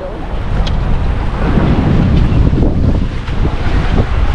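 Strong monsoon wind at sea near Fortune Island, buffeting the microphone loudly and roaring over waves and water noise from a boat, with faint voices in the background.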